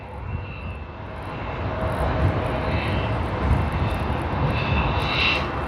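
An airliner in a new livery passes at Sydney Airport, its engine roar steady and broad throughout, with a faint whine rising near the end.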